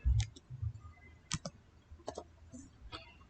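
Computer mouse clicking on a Windows 11 PC, a handful of sharp close clicks spaced irregularly, fairly quiet, with soft speech-like sounds in the background.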